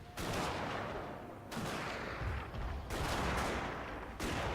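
Massed musket and rifle volleys from troops shooting across a river in the Fall of the Samurai strategy game, coming in dense crackling bursts separated by brief lulls, with heavy battlefield rumble beneath.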